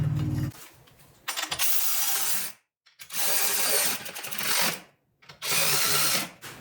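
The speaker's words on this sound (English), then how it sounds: "I'm going to go ahead and just put in the bolt" Power tool driving a bolt into a bracket on a Jeep Cherokee XJ during a three-link suspension and steering install: three loud, close bursts of whirring drive, each lasting about a second or two, separated by short pauses.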